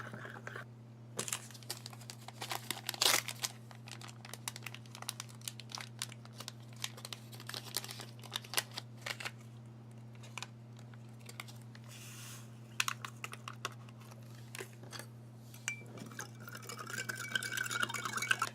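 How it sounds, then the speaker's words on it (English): Fine malt-style powder drink mix from a Singapore 24-hour ration being stirred, a run of quick, light scraping and crinkling ticks close by, faint and continuous over a steady low hum, with no talking. "It's pretty fine powder. We'll give this one a stir."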